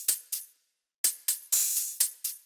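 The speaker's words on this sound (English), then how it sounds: "And then we have this Sticks hi-hat loop" A hi-hat loop sample played with sticks: crisp, short ticks in a quick syncopated pattern, with one longer open hiss in the middle and a brief gap, isolated and dry.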